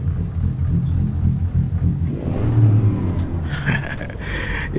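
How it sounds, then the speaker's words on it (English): A big truck engine idles nearby with a deep, uneven, loping rumble that swells slightly midway. A brief hiss of air follows near the end. "Can y'all hear that big lope engine there?"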